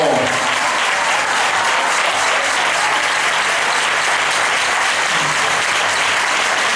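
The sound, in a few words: applause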